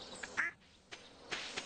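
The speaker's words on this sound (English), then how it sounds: "I hear a duck." A duck quacking in the farming game Stardew Valley, several short nasal quacks spaced unevenly over under two seconds, moderately close over quiet game ambience.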